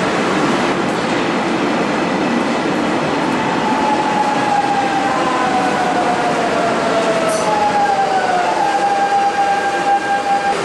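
A Lisbon metro train rumbles steadily into a station, its loud roar constant, with squealing brakes gliding in pitch as it slows.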